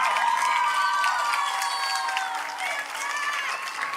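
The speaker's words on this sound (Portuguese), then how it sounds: "Uma salva de palmas para Maria," Audience applause and cheering for a woman celebrating her birthday at a church gathering, many hands clapping steadily under excited whoops and shouts from the crowd.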